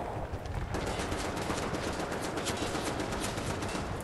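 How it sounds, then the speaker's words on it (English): Assault rifle gunfire from Wolfenstein: The New Order rattles in a dense, continuous automatic stream, loud and close, with no talk over it. "I'll switch over to my assault rifle"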